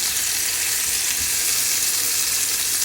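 Chopped tomatoes fry with garlic and onion in hot oil, giving a dense, steady sizzling hiss from start to finish without any voices.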